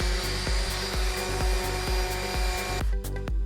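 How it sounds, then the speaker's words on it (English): Orbital sander with 80 grit paper working two wood pieces held together, a loud continuous close whir with a regular pulsing beat throughout. "I'm going to use my orbital sander, and I'm going to put 2 of these pieces together"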